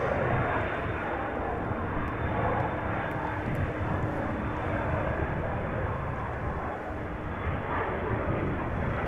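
A business jet takes off from runway 22 at Amsterdam Schiphol, a dense, steady engine roar sustained throughout with no clear rise or fade.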